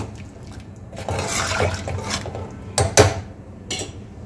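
A spoon stirs a watery drumstick pod curry in a pot, giving soft sloshing and liquid swirling, with a few sharp knocks against the pot's side near the end.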